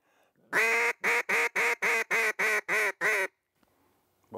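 Acrylic-and-wood Duck Commander Commander in Chief duck call with Coca-Cola wood, blown in a run of eight loud, evenly spaced raspy quacks, close and alone, followed by quiet.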